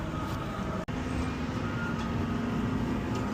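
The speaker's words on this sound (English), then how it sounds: "I'm gonna have to open the tailgate." Steady rumbling drone of a garbage truck with a low mechanical hum settling in as the tailgate is opened, continuous and fairly close throughout.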